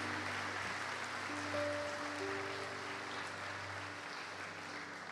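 Church congregation applauding, a steady broad wash of clapping that holds evenly for several seconds at moderate distance, with low sustained organ or keyboard tones underneath.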